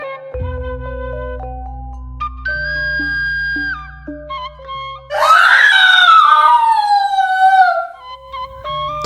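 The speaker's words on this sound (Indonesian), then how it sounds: "Terdengar suara teriakan perempuan dari dalam rumah." A woman screams loudly and shrilly inside a house in a short film, a long wavering cry that follows a stretch of layered electronic tones and beeps.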